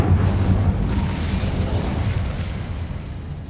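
Incendio fire spell cast in the Hogwarts Legacy video game: a loud, close fiery burst that booms and then rumbles and crackles away over a few seconds, with no talk.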